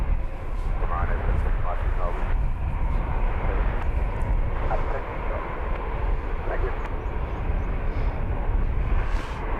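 An easyJet Airbus A320 airliner at London Luton Airport gives off a steady, broad engine roar that holds for the whole stretch, with a voice talking over it.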